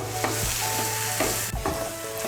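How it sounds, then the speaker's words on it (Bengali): Boiled egg being stirred and mashed into eggplant bhorta, producing soft repeated scraping and squishing strokes against a bowl, steady and close, with no voices. "ডিম সিদ্ধটাকে ভালো করে মিশিয়ে নেব"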